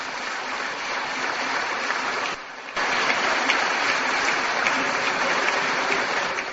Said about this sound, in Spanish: solo voy a pedir el aplauso de todos